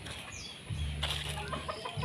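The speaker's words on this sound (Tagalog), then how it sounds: "Pakita ko sa inyo yung mga tandang pang ano, yung mga pinalalaki pa niya" A rooster clucks low and steadily while wings flap briefly, with faint background noise; no talking.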